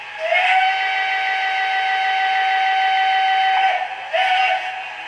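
A loud, sustained steam whistle blows steadily for several seconds, briefly dips, then sounds again in a second short blast.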